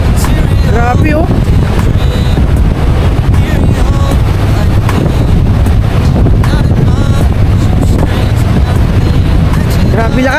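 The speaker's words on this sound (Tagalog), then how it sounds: "Ang lakas nga lang ng alon." Powerful waves pound a rock formation shoreline at high tide, producing a steady loud wash of surf and wind gusts, with a voice calling out now and then above the roar.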